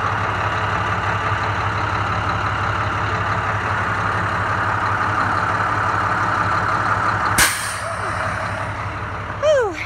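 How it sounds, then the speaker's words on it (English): A 2012 Medtec International medium-duty Type I ambulance idles with a steady low engine hum, then its air brakes release a sharp hiss, followed by brief squeaks. "Ooh, air brakes are fun."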